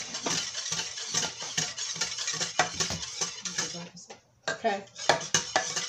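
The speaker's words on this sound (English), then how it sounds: "Now, I'm going to take and stir this. Get it all mixed up in there." Banana pudding mixture is stirred in a pot, bright repeated metal-on-metal scrapes and clinks of a spoon against the sides in a fast, uneven rhythm, close and clear, with a brief pause and a short spoken word.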